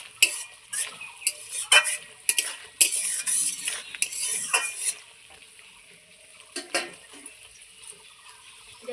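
A vegetable curry of khudiya stalks and potato being stirred in a pot, with irregular scraping clatters of a utensil against metal, close and moderately loud, fading to quieter stirring toward the end.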